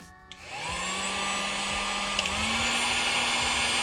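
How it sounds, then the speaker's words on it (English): A Harbor Freight heat gun blows continuously while shrinking heat-shrink tubing over a repaired ABS wire on a Chevrolet Caprice PPV, a loud, close, steady fan roar with a rising whine as it spins up. "Harbor Freight heat gun. Heat it up."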